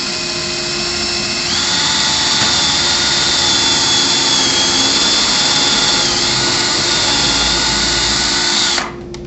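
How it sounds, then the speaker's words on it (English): A power drill pre-drills and countersinks for a bugle head screw while installing bullnose trim. It whines loudly and steadily for about eight seconds, then cuts off. "First, we'll need to pre-drill and countersink."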